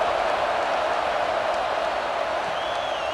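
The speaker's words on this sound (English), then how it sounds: "this crowd is buzzing after that last score." A football stadium crowd buzzes with a dense, steady roar of many voices throughout, loud and continuous with no single voice standing out.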